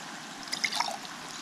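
Water trickling and pouring into a pot of food cooking on a Primus Gravity III camping stove, a short, faint, splashy burst in the middle of a quiet background.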